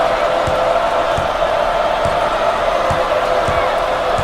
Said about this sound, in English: The crowd begins to chant.